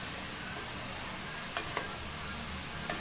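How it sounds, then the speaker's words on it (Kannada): Brinjal fries in plenty of oil for a Karnataka village-style ennegayi palya, giving a soft, even hiss with a few faint utensil taps, fairly quiet and without voices. "ಒಂಚೂರು ಎಣ್ಣೆಗಂತೂ ಫ್ರೈ ಆಗಲಿ ಎಣ್ಣೆಯಲ್ಲಿ"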